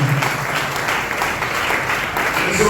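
A church congregation at a French-language service bursts into sustained applause, a dense, steady wash of clapping from many hands that continues throughout.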